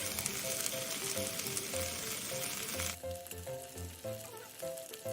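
Chicken stir-frying in a pan with soy sauce, garlic and oyster sauce, a steady close sizzle with occasional stirring clatter, dropping to a softer fry halfway through, no talking.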